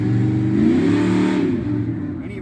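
Trans Am engine at a drag strip test-and-tune session, suspected of an ignition issue, revving loudly and close up, with the pitch rising to a peak and then falling away unevenly.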